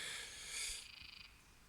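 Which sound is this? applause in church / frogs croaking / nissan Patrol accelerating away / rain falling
frogs croaking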